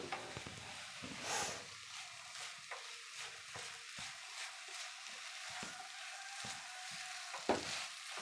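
Coconut and raw mango chutney mixture frying in a pan, with a soft, steady sizzle under repeated scraping stir strokes at a gentle, irregular pace.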